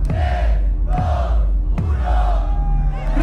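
Crowd at an FMS Chile 2022 freestyle rap battle in Urban Roosters, roaring and shouting loudly and continuously across the whole stretch, with a few sharp hits punctuating the noise.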